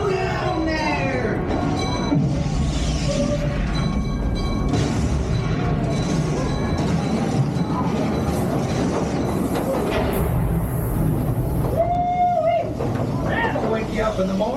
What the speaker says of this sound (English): Slow that train down.